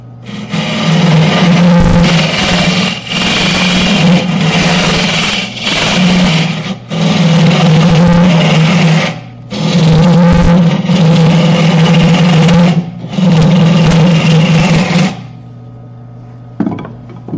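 Loud, continuous whirring of a spinning wood lathe with a harsh, high-pitched cutting sound as a bird feeder's wood wall is turned very thin, broken by brief pauses before stopping.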